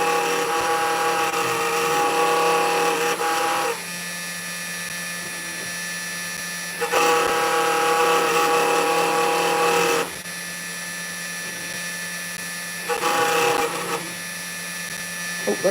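A FoxAlien Masuter 3 CNC machine cuts MDF with a steady, high-pitched whine and hiss that changes pitch and intensity in passes of a few seconds each. The sound is loud and close, with no talk over it.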